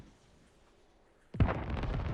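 A UB-32 rocket explodes in the military shooter game Squad. After a quiet stretch, a single heavy blast hits and is followed by a rumbling tail.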